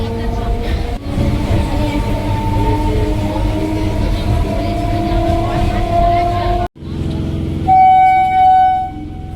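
A train rumbles steadily close by, with a sharp break partway through, then a loud horn toots near the end.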